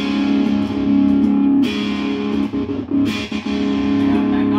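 An electric guitar plays through a Laney LY300 amplifier with reverb, giving loud, sustained distorted chords. It shifts to new strums a couple of times and rings on with no talk over it.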